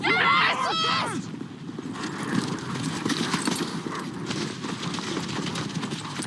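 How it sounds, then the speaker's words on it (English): Horses move in a TV drama scene with a brief high whinny at the start, followed by a busy, muffled patter of hooves mixed with commotion and ambient noise, fairly close and continuous. "Hey, horses!"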